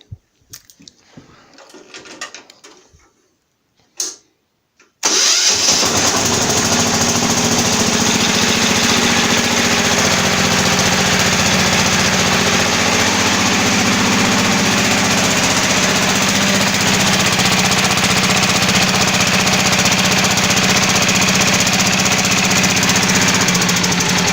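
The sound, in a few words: diesel tractor engine starting and running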